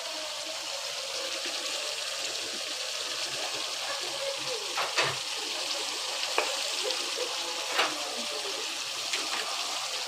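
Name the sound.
cabbage added to frying beef in pan, sizzling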